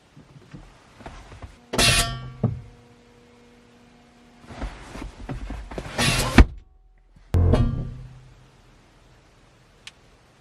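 Air Lift 3H air suspension compressors kicking on as the car shifts on its suspension: three loud humming bursts of a few seconds each, separated by quiet gaps and ending in a faint tick.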